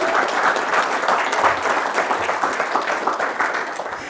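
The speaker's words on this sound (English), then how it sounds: "Give Pat a round of applause as well." Audience at a fireside chat event breaks into steady, dense applause, many hands clapping together at full volume for several seconds without pause.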